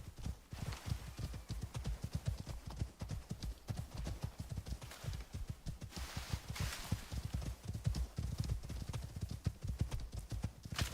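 Horse hooves clip-clop in a steady, fast rhythm as a rider travels across terrain in the survival game Icarus, the beats continuous and fairly quiet throughout.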